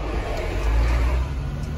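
A car passes close by on a street, its low engine rumble swelling to a peak mid-clip and then fading as it moves away.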